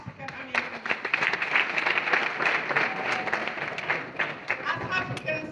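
An audience at a vegan symposium at the University of the Gambia breaks into sustained applause, many hands clapping in a dense, lively patter that continues throughout.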